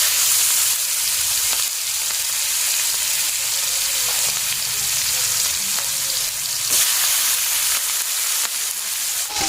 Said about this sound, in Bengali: পেঁয়াজ লঙ্কাটা ভাজা হয়ে গেছে